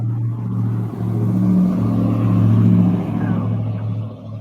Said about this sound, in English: Well, the motorcycles are going by.